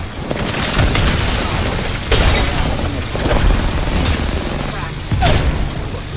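Gunfire and explosions in the Apex Legends video game: loud, dense bursts of shots and booms that keep going without a break, with sharper blasts near the start, in the middle and toward the end.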